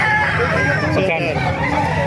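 Roosters crow and chickens cluck amid a busy crowd at a poultry market in Calumpit, Bulacan, with steady human chatter and babble throughout.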